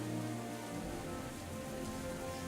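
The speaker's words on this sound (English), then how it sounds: "we've basically got the same sort of atmosphere you would actually have in this town when it was raining" Rain falls on a town in the video game Killing Floor 2, a soft, even patter of raindrops on surfaces with a faint low hum beneath, steady and uninterrupted, no speech.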